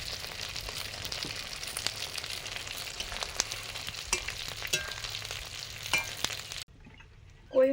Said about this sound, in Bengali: এবারে মাছ দিয়ে দিচ্ছি।